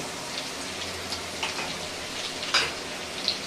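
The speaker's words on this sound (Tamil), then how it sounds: "இது நல்லா பொன்னிறத்துக்கு மேலே நல்லா வறுபடணும் பூண்டு" Steady hiss of garlic frying in oil in a pan, a soft continuous sizzle with occasional louder pops and spatters.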